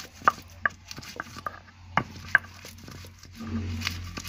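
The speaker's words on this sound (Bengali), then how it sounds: "এবার লঙ্কাগুলো বেটে নেব" Green chillies are pounded into a coarse paste with a string of irregular, sharp thuds and taps against a hard surface, close by, followed by a softer rubbing, grinding noise at the end.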